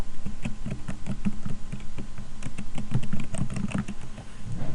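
Rapid keystrokes on a computer keyboard as a filter name is entered in headcount report software, a steady close-up pattern of clicks and taps with brief pauses, no voices.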